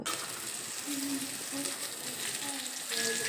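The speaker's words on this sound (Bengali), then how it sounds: "এই কুমড়োর এক সাইড ভাজা হওয়া পর্যন্ত ঢাকনা দিয়ে ঢেকে রান্না করে নেব" Pumpkin slices fry in a covered pan, giving a quiet, steady sizzle and crackle with faint clicking, fairly soft and close, and no talk over it.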